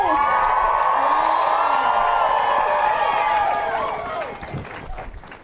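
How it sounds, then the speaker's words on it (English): Crowd at an outdoor climate strike rally for a Green New Deal in Asheville applauding and cheering, a loud, dense wash of clapping and whoops that holds steady, then thins out and fades over the last second or two. "Let's give him another round of applause."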